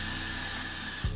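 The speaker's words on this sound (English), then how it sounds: "I may need a little more spray actually." A continuous hiss of hairspray from an aerosol can, steady and close, running for over a second before a soft low bump at the end.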